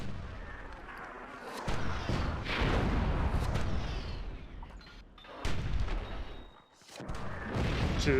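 Cannon falling and exploding in the Myth fantasy strategy game: a run of heavy booms and blasts echoing loudly across the battlefield, several deep impacts rolling one after another with brief lulls between them.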